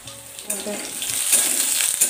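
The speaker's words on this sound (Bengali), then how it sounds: "এদিকে নিম ভাজা হচ্ছে কড়াইয়ে, রান্না হয়ে এসছে।" Neem leaves fry in a wok with a soft, continuous sizzle that swells toward the end, joined by a few light clinks and faint background noise nearby.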